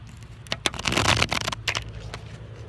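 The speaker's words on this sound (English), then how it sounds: "gonna do us 3 shuffles on this one." Tarot cards riffled and shuffled in quick, crisp bursts of flicking and slapping, up close, with no talking.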